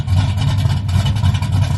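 A car fitted with single-chamber mufflers and a 3-inch exhaust idles close by, giving a steady, deep, throbbing rumble with no talk over it.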